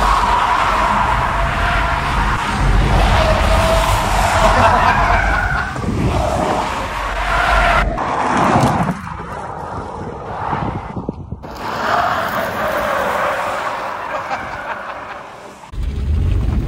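An XPeng P7 electric car is driven hard in a parking lot, with sustained tire squeal and scrubbing under heavy wind rush that surges and fades as the car turns and brakes.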